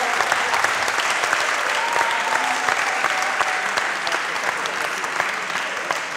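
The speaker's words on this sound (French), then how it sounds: "Vous pouvez les applaudir très fort." Audience applause, sustained dense clapping from a crowd filling the room at moderate volume, steady throughout with no voices standing out.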